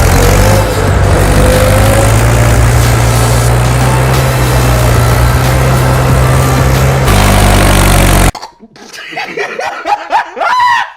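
A tractor engine drones loud and steady while the tractor drives over soft soil and sinks into it, a continuous rough hum for about eight seconds before it cuts off abruptly to laughter and a voice.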